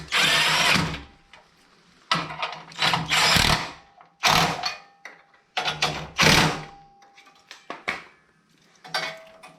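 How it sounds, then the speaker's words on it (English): Bolts on an Acura RSX battery relocation kit are driven down with a power tool, giving loud, close whirring bursts of a second or so each, repeated several times with short silent gaps. "I'm gonna go ahead and tighten these bolts down"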